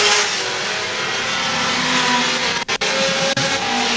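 Race cars roar around a dirt track during a feature race, engines loud and sustained with brief dips as cars pass, no talk over the din.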